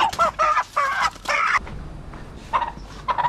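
Desi and Kadaknath chickens cluck in short, repeated bursts at a village dhaba in Jammu, close and fairly clear with brief pauses between calls.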